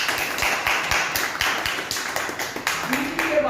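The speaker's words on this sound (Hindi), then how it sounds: "तो पहले सर के लिए एक जबरदस्त ताली होनी चाहिए।" Enthusiastic applause from a gathered audience, a steady run of dense claps carrying on for a few seconds with some louder individual slaps standing out, no voices over it.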